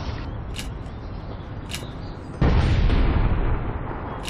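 A grenade blast in the online shooter APB Reloaded erupts as a loud, sudden boom partway through, over a steady bed of game noise and distant rumbling, with the roar lingering for about a second before settling.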